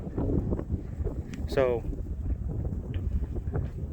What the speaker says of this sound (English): Sorry, it's kind of windy out here today.